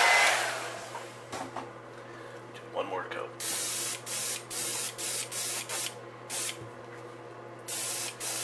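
Iwata HPCS airbrush with a 0.35 nozzle laying pearl silver paint onto a fishing lure, a steady hiss that starts and stops in short repeated bursts, close by, with some talk early on.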